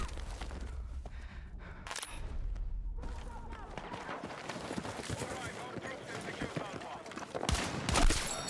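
DMR rifle fire in Battlefield 6 crackles through a busy game mix, with scattered sharp shots, a louder burst near the end and continuous battlefield noise underneath.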